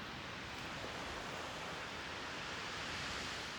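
Sea waves wash against a beach in France, where the water lies below in a hollow. The surf forms a faint, steady broadband rush with no distinct breaks and no voices.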